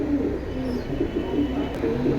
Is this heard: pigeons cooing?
yes